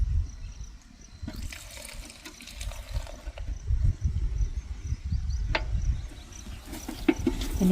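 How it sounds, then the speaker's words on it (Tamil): Neem oil is poured into a container of water to mix a neem spray solution for a paddy field, a soft continuous liquid splashing and trickling that stays fairly close and steady throughout. "இப்போ அந்த வேப்பெண்ணெய் எடுத்து ஊற்றிடுங்க."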